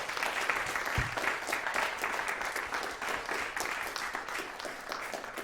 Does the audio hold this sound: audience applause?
yes